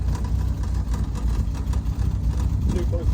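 A Triumph TR6 with a 2.5 straight-six engine in good condition idles with a low, steady rumble while people talk over it.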